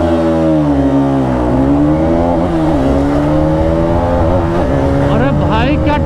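A Karizma XMR 210 motorcycle pulling hard in fifth gear, its engine note a steady, loud drone that climbs and wavers in pitch as it accelerates, with a rider's voice faintly present under the continuous roar.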